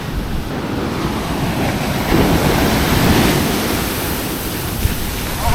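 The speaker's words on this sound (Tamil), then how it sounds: "சடனாக வந்து ஒரு அலை அப்படி தூக்கி சாப்பிட்டு போயிடுது." Close, loud roar of ocean waves surging onto a beach at night on the ECR coast near Chennai, with a steady rushing wash and wind noise; no voices.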